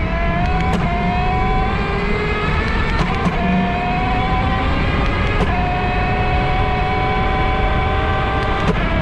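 Road traffic pulls away from traffic lights, engines droning steadily and rising in pitch as vehicles accelerate, heard close by with a constant rumble and no talk.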